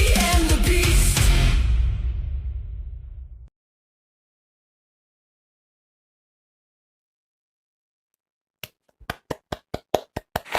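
Applause at a live fantasy fiction show rises in a dense, loud wash of clapping and fades out, and after a long silence a few separate, sharp claps return.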